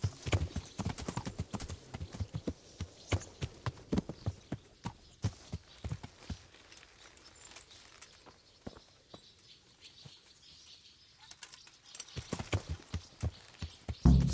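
Horse hooves clip-clop steadily in Kingdom Come: Deliverance, a close rhythmic walking gait that pauses briefly midway, then resumes and speeds up, with no talking.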